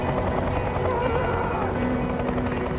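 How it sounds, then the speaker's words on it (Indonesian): A helicopter in a film scene makes a loud, continuous rotor thrum and engine roar that fills the whole stretch. "John juga berhasil kabur dengan menggunakan helikopter"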